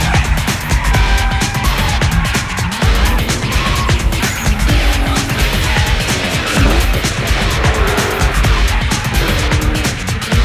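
Drift car on a closed mountain road at the 2012 Karpacz mountain challenge, a loud, continuous roaring engine with tire squeal and skidding throughout, up close.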